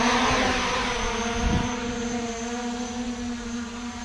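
Motors of a custom-frame Arducopter Y6 hexacopter spinning up for a loiter takeoff, a steady multi-tone propeller whine with a strong low hum, close by and gradually easing, with no talking.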